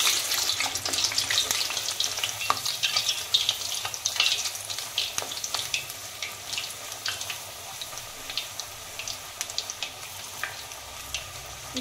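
Fini roti, a festival pastry, fries in hot oil with a dense, crackling sizzle and intermittent stirring, steady and close throughout with no voices.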